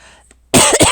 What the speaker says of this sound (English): Apologize about the coughing after I talk so long